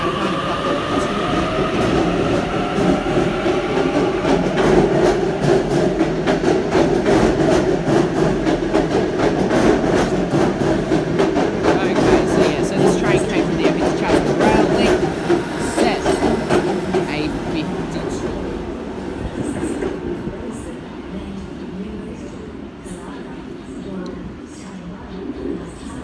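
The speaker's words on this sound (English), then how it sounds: "A56 arriving onto platform number 3." A Sydney Trains A set arrives at a platform at Epping station: a steady loud rumble and wheel noise run for about fifteen seconds, then ease off as the train slows. Pigeons and faint voices can be heard around it.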